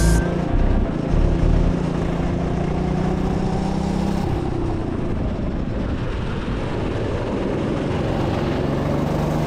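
A 50mph twin-engined go-kart drives around a track, its engine droning steadily and loud throughout with a shift in pitch partway through, heard close up and alone.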